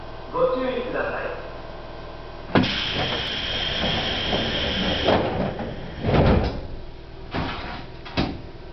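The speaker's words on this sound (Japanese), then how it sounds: "ドアが閉まります。" Sliding doors of a one-man train on the Ueda Electric Railway Bessho Line rumble shut with a hiss and thud, followed by clunks and rattles of the stationary train, under a recorded announcement voice.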